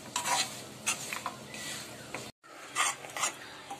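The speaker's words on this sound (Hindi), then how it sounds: "गुड़ को अब हम मेल्ट होने देंगे" Jaggery melting in a kadhai while being stirred, rhythmic close scraping strokes of a spoon against the pan over a soft sizzle, with a brief cut in the middle and no talking.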